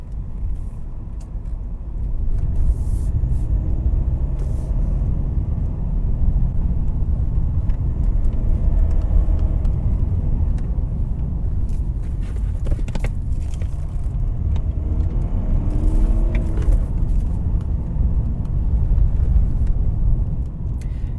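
A BMW 320d E46 diesel saloon on the move, its engine a steady low rumble with road and cabin noise, constant and close throughout, with no talk.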